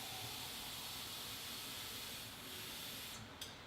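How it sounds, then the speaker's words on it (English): Food fries in hot oil on an induction stove, giving a faint, steady sizzling hiss with no voices. "So I'm going to be frying"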